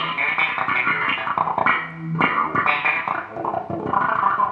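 Slap bass through an envelope filter gives percussive thumbs and pops with a wah-like, quacky sweep on each note, a busy funky rhythm played alone for several seconds.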